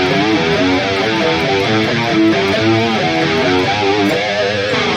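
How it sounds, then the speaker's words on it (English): Electric guitar played through a Valeton GP-200 multi-effects unit with distortion engaged, a steady run of dense, saturated notes and chords filling the whole stretch, loud and close with no talking. "Of course, we can turn on the distortion again with control 2."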